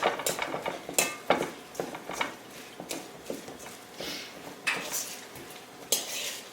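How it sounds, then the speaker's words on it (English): A fork stirring oats into a bean burger mix in a bowl, with repeated close clinks and scrapes of metal against the dish in an uneven rhythm. "So I'm just stirring around the oats."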